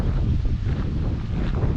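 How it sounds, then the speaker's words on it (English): Strong wind gusts buffet the microphone on a blustery day beside hiking trails, a steady loud low roar with no speech throughout. "Windy day"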